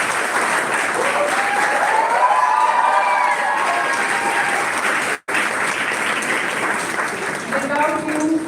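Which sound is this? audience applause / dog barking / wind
audience applause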